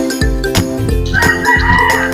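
Texas chickens two months old in a free-range area, a rooster crowing loudly and close while other birds cluck around it, with no talking.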